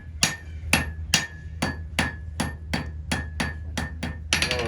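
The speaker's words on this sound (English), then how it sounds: "I got my hammer slightly and start rotating back and forth." A blacksmith hammers out a nail point on an anvil with about ten loud, evenly spaced ringing strikes, each followed by a brief metallic ring, with no talk.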